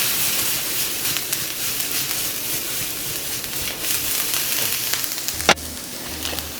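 Roughly chopped garlic, about three cloves, and onion fry in a pan with store-bought sauce, giving a steady close sizzle and hiss throughout, broken by one sharp clink near the end.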